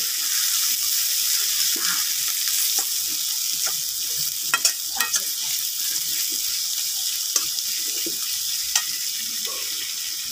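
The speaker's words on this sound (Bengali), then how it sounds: "পেঁয়াজগুলো ভাজা হোক, আমরা 2 মিনিট পরে ফিরে আসছি।" Onions frying in oil in a pan for tangra fish bhuna give a steady, close hiss of sizzling with scattered small pops and crackles, continuous throughout with no talking.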